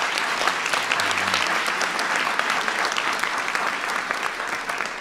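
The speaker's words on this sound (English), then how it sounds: "Give Oracle a big round of applause for that." Sustained applause from a large audience at a press conference, steady and dense clapping throughout.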